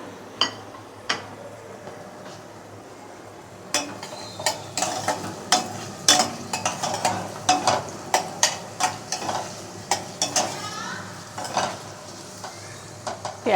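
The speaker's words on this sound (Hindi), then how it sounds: "प्याज थोड़ा नरम होने तक पकाएंगे इसे।" Onion, garlic, green chillies and almonds or cashews frying in a pan for butter chicken, with a spoon repeatedly clinking and scraping against the pan in quick irregular bursts over a low, steady sizzle.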